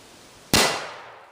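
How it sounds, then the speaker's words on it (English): A K31 Swiss rifle bullet hits a half-inch steel plate outdoors: one sudden loud metallic crack-clang rings out and fades over about a second, with no other sound around it. "So now we're going to shoot it with the K31 Swiss."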